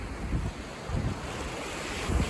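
Gusty wind buffets the open shoreline of Heart Lake in Yellowstone in late September, a steady roar of rushing air mixed with waves lapping nearby and low thumps of wind against the microphone.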